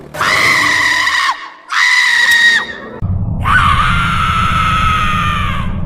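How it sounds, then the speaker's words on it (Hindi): Loud, high-pitched screams in three drawn-out bursts in an animated horror story, the last one longer and over a rough low rumble, with no talking. "पीछे से जोर जोर से चीखने चिल्लाने की आवाजें आ रही थी।"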